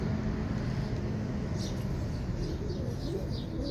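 A Flying Tippler pigeon coos softly amid a steady outdoor background, with a few brief chirpy calls scattered through the stretch; no clear talking over it.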